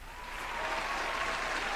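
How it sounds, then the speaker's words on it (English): A crowd breaks into applause that swells slightly and holds steady, forming a soft, continuous wash of clapping heard at a distance. "How about a round of applause for Mr."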